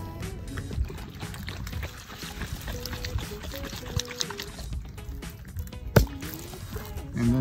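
A glass jar holding soil and water shaken by hand, giving close sloshing and gurgling liquid sounds with irregular knocks and a sharp clink near the end.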